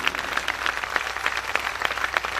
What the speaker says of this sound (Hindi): ये जितने छोटे हैं तालियां उतनी ऊंची होनी चाहिए